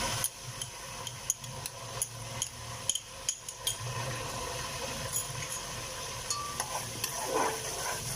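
Garlic ginger paste frying in a pot of khichri, with faint sizzling and a run of soft scraping stirs and light clinks close by, no talking.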